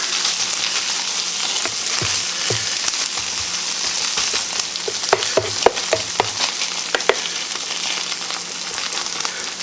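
Breakfast hash frying flat in a hot pan, a steady loud sizzle and crackle with scattered sharp taps and scrapes of a spatula as it browns; no voices.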